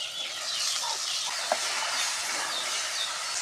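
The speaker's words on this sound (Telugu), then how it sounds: "ఇప్పుడు చిక్కుడుగాయలు వేద్దాం." Broad beans (chikkudu) tipped into a pan of onions and tomatoes for a Telugu-style tomato curry, giving a steady, fairly loud broadband hiss of frying with one brief soft clatter midway.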